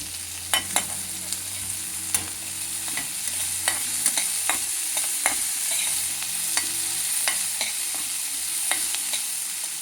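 Small onions and tomatoes fry together in a pan, producing a constant close hiss of sizzling with sharp, irregular spoon clicks and scrapes against the pan.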